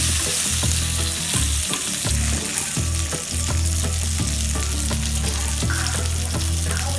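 Garlic and curry leaves sauté in a pan for a coriander seed chutney, giving a loud, continuous sizzle with rhythmic stirring strokes over a steady low hum.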